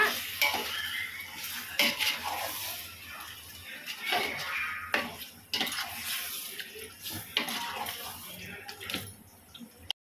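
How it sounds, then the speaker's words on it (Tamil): A spoon stirs yogurt through chicken in a metal pot for biryani, giving irregular scraping and clinking with soft wet squelches, close but fairly quiet. "தயிர் நல்லா சிக்கனோட அப்படியே நல்லா பெரட்டி விடுங்க"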